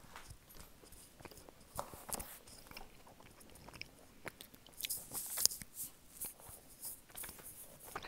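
Someone bites and chews crackers close by, making quiet, irregular crunches and soft mouth noises.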